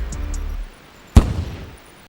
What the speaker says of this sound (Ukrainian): Кумулятивним боєприпасом вражаємо ворожий танк.